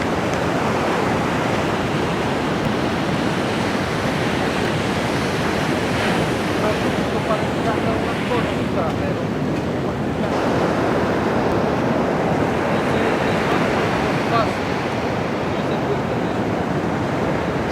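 Ocean waves roll onto a beach in Guanacaste, Costa Rica, a loud, continuous wash of surf with steady rushing and gusty wind buffeting the microphone throughout.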